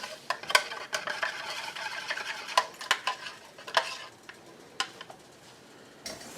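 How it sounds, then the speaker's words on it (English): Garlic mixture for broccoli cheese soup stirred in a container, with soft scattered clicks and scrapes of a utensil, close and fairly quiet, the strokes uneven and sparse toward the end, with no voices. "I'm just going to stir that together."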